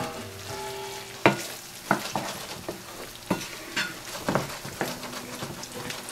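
Asparagus sizzling in a pan after liquid is poured in, a steady close frying hiss broken by sharp clinks and scrapes of stirring at irregular intervals.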